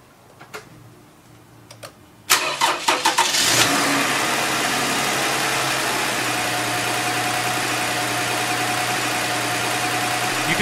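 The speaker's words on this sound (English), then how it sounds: "So let's go ahead and start this." A car engine cranks with a few quick ticking clicks, then catches and settles into a steady, fairly loud idle that holds to the end, with no talking.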